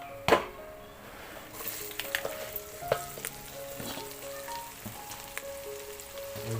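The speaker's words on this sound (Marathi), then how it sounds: "आता त्यानंतर आपण कडीपत्ता आणि मिरची टाकणार आहोत" Curry leaves and green chillies dropped into hot oil with mustard seeds for a Diwali poha chivda, giving a sharp burst of sizzling and crackling that settles into steady close frying with scattered pops.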